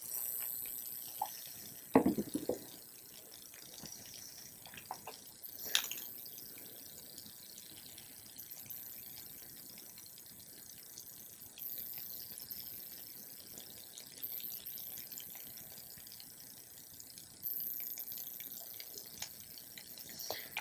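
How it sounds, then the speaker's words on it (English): Part B of a two-part polyurethane concrete repair resin is poured into a container in short bursts with drips and splashes, fairly quiet and close, no talking. "Then we're going to pour in an equal part of part B."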